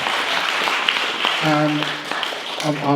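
A crowd at an outdoor Free Palestine rally claps steadily, while someone speaks loudly over the applause through a PA system.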